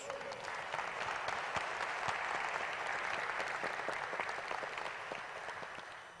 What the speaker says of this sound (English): You need to give them a round of applause